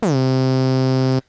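A low, sustained synthesizer note from Native Instruments Massive starts with a brief pitch glide, holds loud and buzzy with rich harmonics, then cuts off cleanly after about a second.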